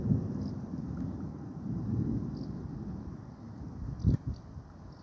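Thunder from a severe thunderstorm at Cromford, Derbyshire, UK rolls as a low continuous rumble with a louder crack near the end, heard steadily over rain and wind without voices.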